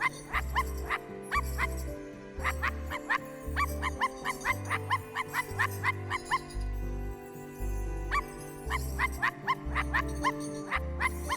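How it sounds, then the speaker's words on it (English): Dog barking in the video game I Am Dead, repeated short barks in a steady rhythm over a looping musical game soundtrack with low pulsing tones, fairly close and clear, no talk. "I'm not really sure what I'm doing, besides barking."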